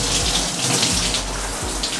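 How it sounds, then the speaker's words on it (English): Shower water runs steadily in a bathroom, a continuous close hiss of spray with no voices. "Now, time for a shower."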